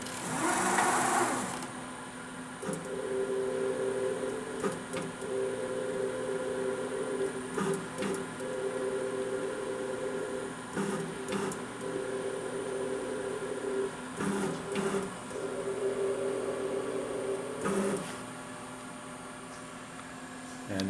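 An Acer E-Mill EVS-3VKH 3-axis CNC vertical milling machine drills a four-hole bolt pattern, giving a steady mechanical hum with repeated tonal whine stretches as each hole is cut, separated by brief clunks and pauses.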